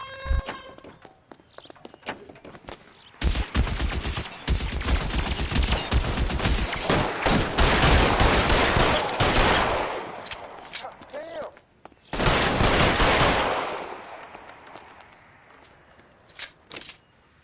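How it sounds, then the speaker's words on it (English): Gunfire in a shootout from the video game L.A. Noire: dense, loud volleys of rapid shots that keep going for about ten seconds, then a pause and another heavy burst, ending in a few scattered single shots. "Guys aren't gonna go quiet. Open fire!"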